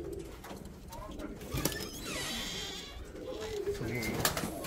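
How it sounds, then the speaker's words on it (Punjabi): Domestic pigeons, female birds at rest in a loft, cooing softly in the background among other low rustling noise, with faint distant voices. "ਬੈਠੇ ਕਬੂਤਰ ਇਹ ਸਾਰੀਆਂ ਫੀਮੇਲ ਆ"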